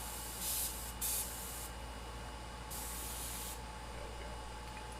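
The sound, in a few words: airbrush spraying paint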